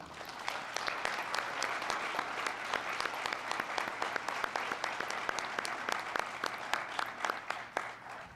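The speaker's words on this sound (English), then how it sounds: "Please join us in applauding the NNE Committee" Sustained, dense applause fills a large hall during a business session at an annual professional meeting in Seattle, many hands clapping steadily at even strength for several seconds with no talking over it.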